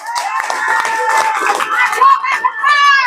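A crowd at a press conference claps and cheers loudly together, with shouting voices rising over the applause.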